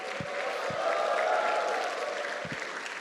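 A congregation at a Tagalog church service applauds steadily, the clapping dense and sustained throughout, with a few low thumps underneath.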